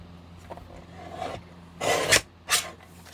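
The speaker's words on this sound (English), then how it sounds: "And then I'm just going to open up the guillotine and trim it off." Paper trimmed on a guillotine paper trimmer for a card-making craft, heard as soft rasping slides followed by two louder close scraping strokes of the blade through the sheet.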